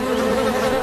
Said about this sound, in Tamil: தேனீக்கள் பறக்கிறத பார்த்தா பக்கத்துலதான் எங்கேயோ தேன்கூடு இருக்கணும்னு நினைக்கிறேன்.